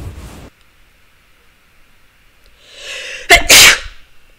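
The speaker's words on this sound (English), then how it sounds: "Sorry, that was a sneeze." A character in the video game The Witcher Adventure gives a single loud, close sneeze after a breathy intake, preceded by quiet stillness and a brief rustle at the start.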